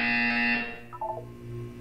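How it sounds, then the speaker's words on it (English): A loud, steady electronic buzzer from the video game Portal 2 drones for about half a second, then fades, followed by a few short chiming tones and a low hum. "You will hear a buzzer."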